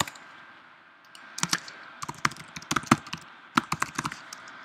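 A computer keyboard is typed on up close while coding in an IDE, with irregular bursts of sharp key clacks after a quiet start over a faint steady hum.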